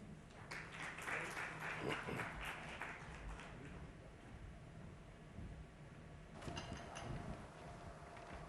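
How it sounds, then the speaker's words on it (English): Conference audience applause for an airline CEO after his talk on aviation: a burst of clapping fades to a low murmur, then a second, shorter round of claps starts near the end. "let's give him a very warm round of applause again."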